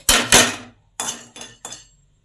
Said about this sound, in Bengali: এবার এই আমন্ড আর কাজু বাদামটাকে শুকনো কড়ায় ভেজে নেব।